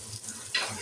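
Spices and garlic paste hitting hot oil with fried onions in a pan, a brief, faint, steady sizzle with a slight surge partway through.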